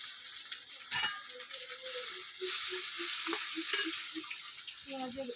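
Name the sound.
prawns frying with onion and green chilli in hot oil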